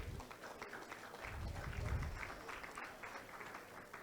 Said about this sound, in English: could our new members give themselves a round of applause?